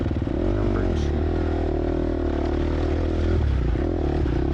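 A four-stroke dirt bike passes during a motorcycle club ride, its throbbing engine droning steadily and swelling slightly toward the end under a continuous wash of other engine noise.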